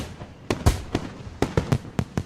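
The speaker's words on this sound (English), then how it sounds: "Sparkling tracers arc upwards, ready to explode in the floral shapes of fireworks." Fireworks burst at a festival in a visual novel game, a quick irregular series of sharp, loud pops and crackles.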